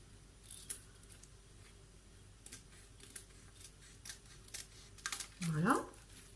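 Scissors cutting along the edge of a paper label, a few faint, separate snips spaced out over quiet room tone, with a brief voice near the end.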